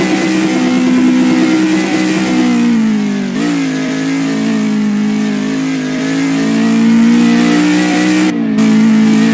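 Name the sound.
Lada car engine revving in a video game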